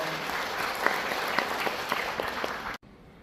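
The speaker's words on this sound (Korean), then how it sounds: "큰 박수 부탁드리겠습니다" An audience applauds at a memorial symposium and writing contest award ceremony held in a library performance hall, steady clapping filling the room before cutting off abruptly near the end.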